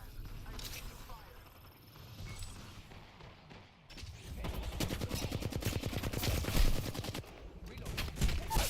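Rapid gunfire rattles in a shooter video game. Sporadic shots at first give way to long, dense bursts of automatic fire, with a person speaking in places.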